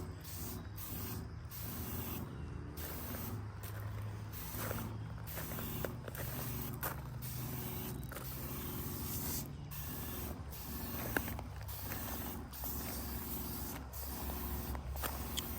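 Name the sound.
STIHL KW-KM power sweeper running along edge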